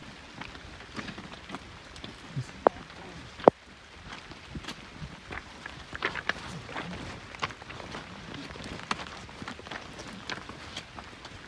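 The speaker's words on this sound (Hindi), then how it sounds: "जी फैज़ान, कैसा लग रहा है आपको इस बारिश के मौसम में इस ट्रैक को कवर करते हुए?" Rain pattering on a rocky hiking trail in the Margalla Hills near Islamabad, steady and moderate throughout, with scattered sharp drop hits and faint footstep-like knocks, no voices.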